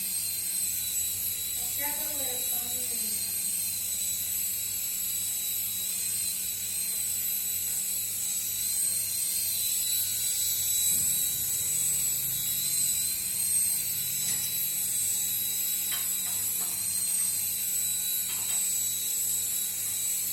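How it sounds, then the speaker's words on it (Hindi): A palm-controlled toy helicopter flies indoors, giving a steady high-pitched electric motor whine and rotor buzz throughout, with brief faint clicks and a short low voice-like sound early on. "ये देखिए हेलीकॉप्टर विदाउट रिमोट उड़ रहा है। ये पाम कंट्रोल वाला हेलीकॉप्टर है"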